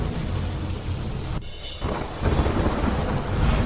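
Heavy rain pours steadily over a hilly region with a rumble of thunder, a loud continuous wash with a brief dip and then a fuller surge, and no voices.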